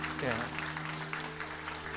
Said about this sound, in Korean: 박수를 한번 따뜻하게 환영해 주시고요